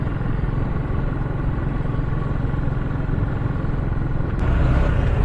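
Steady road traffic with many vehicles, including cars and motorcycles, captured through an SJ6 Pro action camera's microphone: a dense, continuous engine rumble and clatter that swells slightly near the end.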